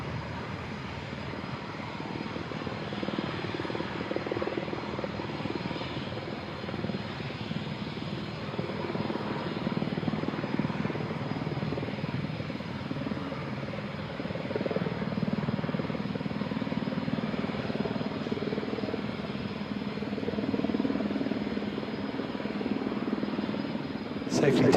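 Aircraft engine drone at an air show as a plane lands on the runway, a steady broad roar holding across the whole stretch and rising slightly toward the end, with an announcer talking over it.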